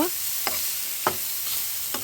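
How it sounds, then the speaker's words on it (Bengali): Onions fry in hot oil with a constant hissing sizzle, broken by three or four brief spatula scrapes at a slow, even pace, close up and with no talking. "পেঁয়াজগুলো আমি ভালো করে ভেজে নেব"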